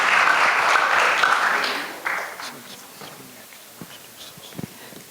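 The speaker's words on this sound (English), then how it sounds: "Let's have another round of applause for our Alderwoman representing the mayor." Applause from the audience at an ISKCON Chicago community leaders' appreciation event, a loud dense round of clapping that fades over about two seconds, leaving a few scattered claps and footsteps.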